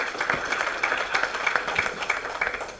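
A conference audience at a stakeholder gathering applauds a panel member, with steady, dense clapping across the room, mid-distance and fairly even, carrying no speech.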